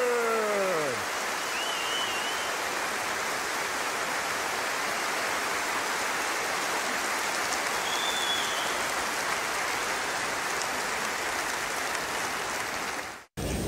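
Dense, sustained applause from a large concert crowd fills the whole stretch like steady rain, loud and even, ending abruptly at the close.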